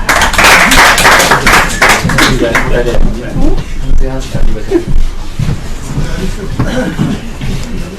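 An audience applauds loudly to welcome a young Kashmiri poet at an Urdu poetry gathering. Dense clapping fills the opening seconds, then thins into scattered claps and murmuring voices.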